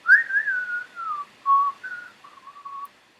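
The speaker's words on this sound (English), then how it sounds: "Maybe somewhere where I could just whistle like this." A person whistles a short wavering tune alone, several phrases of clear, fairly loud whistling with brief pauses between them and no talk.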